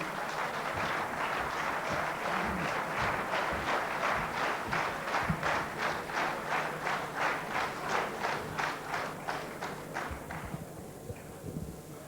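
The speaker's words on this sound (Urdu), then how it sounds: "بھرپور تالیوں میں بلوائیے" An audience at a 1993 Jashn-e-Azadi poetry gathering applauds to welcome the poet Hasan Rizvi. Full, sustained clapping falls into a rhythmic pulse before tapering off near the end.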